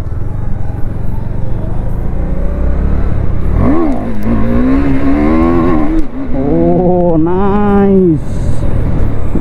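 A KTM Duke 390 motorcycle in hyper mode revs during a wheelie attempt: a low rumble builds into several rising, whining engine surges, loud and close, over constant background noise.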